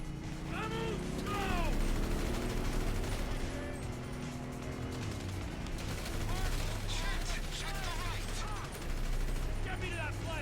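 Heavy gunfire from a shootout cutscene in GTA 5, with dense bursts and rattling automatic fire under a loud, busy game score and occasional voices.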